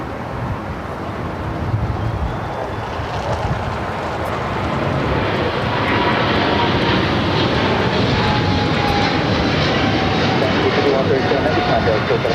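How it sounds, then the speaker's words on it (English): A two-year-old Boeing 777 freighter bound for Taipei rolls down runway 25 left at LAX, a loud, steady broadband jet roar building and holding through the whole stretch, with wind buffeting the microphone. "Are we doing that 777 freighter now rolling down to 25 left?"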